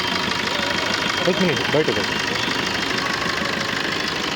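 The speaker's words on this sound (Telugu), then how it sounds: "ఇప్పుడు స్టార్ట్ చేస్తున్నాను చూడండి అన్న ఇంజిన్" A Maruti Brezza car engine idles steadily at a low, even rumble throughout, with a person's voice briefly audible over it.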